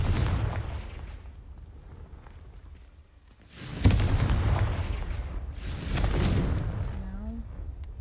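Booming blasts from the Confringo spell in Hogwarts Legacy, two loud explosive bursts with rumbling tails a couple of seconds apart, following quieter ambience and a spoken voice.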